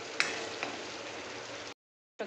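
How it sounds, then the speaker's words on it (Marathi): Masala fries in oil with a steady soft sizzle and a couple of faint clinks, which cuts out abruptly near the end and then briefly resumes, with no talk. "आता मस्त चांगला आहे तेलामध्ये फ्राय होऊ द्यायचं"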